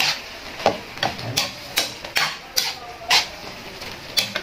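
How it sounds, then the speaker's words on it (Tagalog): A metal spoon stirs bopis, a chopped pork lung dish, in a cooking pot, giving a steady series of about a dozen sharp clanks and scrapes against the pot at an even, unhurried rhythm. "Haluin natin ulit."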